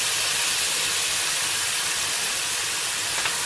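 Chicken pieces grill in a hot pan, giving off a steady, loud broadband sizzle that hisses continuously without any pause.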